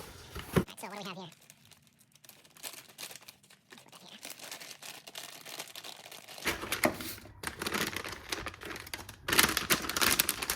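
Close, crinkly rustling and crackling of a static bag being unwrapped from an Arc Terminator EKPS cooler package for a BMW F10 535i, bursts of crumpling growing louder toward the end, with someone speaking.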